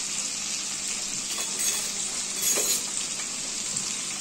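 Vegetables for a Bengali side dish fry in a pan with a steady, crackling sizzle, briefly swelling twice as they are stirred, close and continuous without talk.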